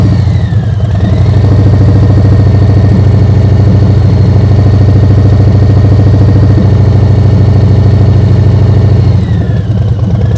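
A motorcycle engine in first gear holds a steady loaded rumble during slow-speed riding practice in Washington, loud and close for about ten seconds with no pauses, easing slightly at the end.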